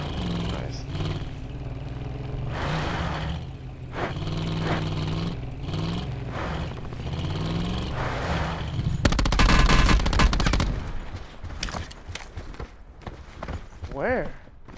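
Gunfire in Call of Duty: Black Ops 4 Blackout mode on PS5: a loud, dense burst of automatic shots in the middle, with engine-like game noise and players talking throughout.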